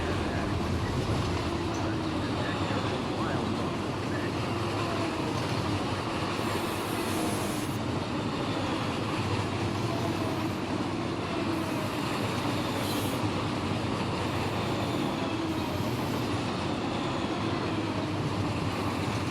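A CSX freight train in the Run8 Train Simulator game rumbles along at speed, a steady, even roar of engine and rolling wheels holding at a moderate level for the whole stretch.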